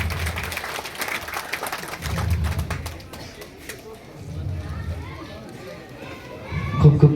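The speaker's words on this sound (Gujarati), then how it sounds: "જોરદાર તાળીઓથી વધાવી લઈએ દીપ પ્રાગટ્યને" An audience applauds at a lamp-lighting ceremony during a public event, with bursts of clapping rising and falling in waves under a speaking voice.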